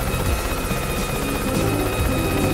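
In Yooka-Laylee, the helicopter form flies with a steady, loud whirring buzz of rotor blades. The sound is close and continuous throughout, with no talk.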